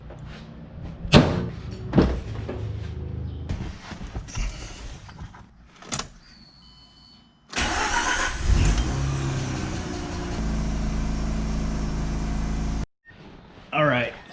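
A Mazda RX8 with a rebuilt engine, just off jack stands, comes to life: scattered knocks and brief voices give way to a loud, steady engine roar that holds for several seconds, cuts off, then briefly restarts.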